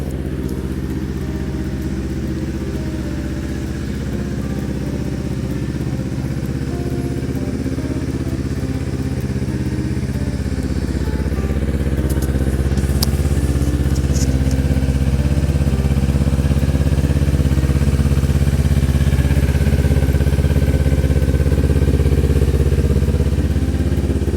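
Kawasaki Ninja 250 sport motorcycle from 2009/10 idling steadily up close, a continuous low engine hum that swells slightly louder partway through, with faint mechanical clatter and no speech.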